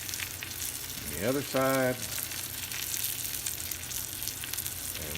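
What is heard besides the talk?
ribeye steak sizzling on a hot grill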